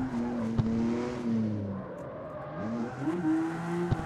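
A car drifts in the street-racing game CarX Street, engine revving up and down in rising and falling tones as it slides through a transition, close and continuous with no voices.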